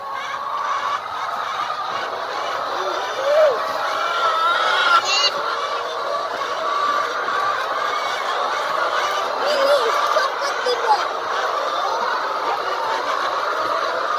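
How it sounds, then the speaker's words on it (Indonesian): A flock of chickens on a farm in Bangladesh swarms around a person, with continuous overlapping clucks and squawks close by and faint voices in the background. "Ayamnya langsung nyerbu dia."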